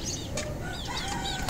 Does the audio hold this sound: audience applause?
no